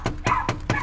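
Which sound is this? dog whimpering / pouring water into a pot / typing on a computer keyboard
dog whimpering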